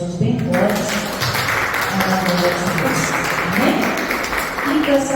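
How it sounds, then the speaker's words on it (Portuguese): A church congregation claps together in a sustained burst of applause, loud and close, with voices mixed in throughout. "Se você crê, aplauda Jesus bem forte."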